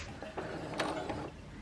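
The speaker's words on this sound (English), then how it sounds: "I'm using a Brother sewing machine" A Brother standard sewing machine runs briefly, a close mechanical whir with quick clicking needle strokes and a short burst in the middle.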